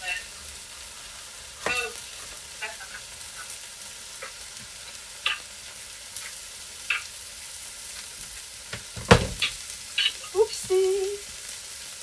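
Steak sizzles in a pan with a steady low crackle, broken by a few sharp clanks and scrapes of utensils and a short voice near the end.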